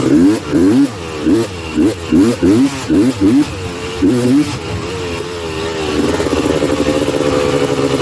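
A Honda TRX330R quad's engine revs in repeated rising bursts while riding, then settles into a steady, louder drone, close and dominant.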